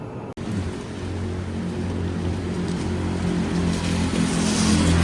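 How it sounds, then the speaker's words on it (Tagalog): Heavy rain falls in Kyoto, Japan, a loud, steady downpour hissing on surfaces, with a low hum of traffic beneath it, continuous after a brief click at the start and with no voices. "Lakas ng ulan, oh."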